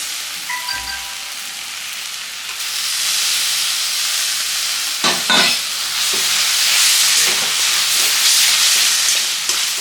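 Boneless chicken sizzling in a pan of well-cooked spiced oil for chowmein, a steady loud hiss of frying with occasional stirring scrapes, no voices.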